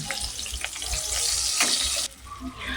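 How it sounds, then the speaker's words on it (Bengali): Ginger and green chili paste sizzles and fries on a low flame while being stirred, a dense continuous crackle that stays close and fairly loud throughout, with a slight drop near the end. "এক থেকে 2 মিনিট লো ফ্লেমে নেড়ে চেড়ে যোগ করে দিচ্ছি আদা ও কাঁচা লঙ্কা"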